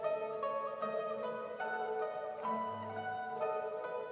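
A mandolin orchestra of about 40 players performs classical mandolin music, a bright, shimmering ensemble of plucked tremolo strings sustaining chords and melody at an even, moderate level with no talking.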